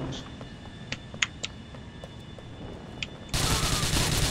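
Gunfire in Grand Theft Auto IV multiplayer, a few scattered sharp shots, faint and spaced apart, then a louder burst of sustained noise near the end.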